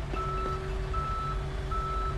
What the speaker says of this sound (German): Ah, da ist er, der Abschleppwagen.